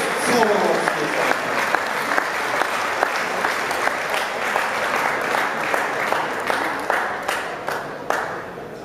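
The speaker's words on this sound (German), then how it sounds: "Nochmal ein Applaus für die Jungs" A hall audience at a boxing championship final and award ceremony claps loudly and continuously, sustained dense applause with individual claps standing out, gradually thinning toward the end.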